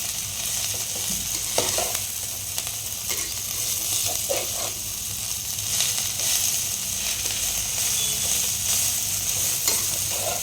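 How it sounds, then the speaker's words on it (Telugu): Leafy greens frying in a pan with a steady, moderate sizzle, punctuated by occasional scraping and stirring clicks, close and continuous with no voices. "ఈ ఆకుకూరలు తొందరగానే ఫ్రై అయిపోతాయండి"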